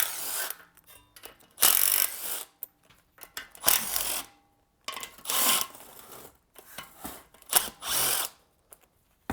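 Repeated short bursts of a small power tool or ratcheting driver working on the bolts of a Briggs & Stratton engine's valve cover, close and clear, separated by quiet pauses.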